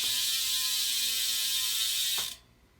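United cassette hub on a left-hand drive BMX wheel, a fast continuous freewheel clicking buzz held for about two seconds, then stopping abruptly, close and clear.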